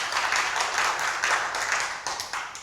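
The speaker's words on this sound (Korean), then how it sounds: "김명숙 대표님과 광주시 식생활교육협회 위원님들께 다시 한번 큰 박수 부탁드리겠습니다" An audience at a community forum on shared refrigerators in Gwangju, Gyeonggi applauds, a dense and steady wash of many hands clapping together at a fairly loud level.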